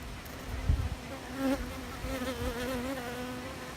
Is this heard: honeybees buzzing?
yes